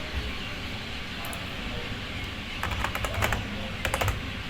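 Typing on a computer keyboard, quiet and steady at first, then a denser run of sharp clicking keystrokes in uneven bursts toward the end over a constant background hiss.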